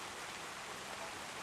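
Steady rain ambience, a dense, even hiss of falling rain with no breaks, no voices and no other sounds.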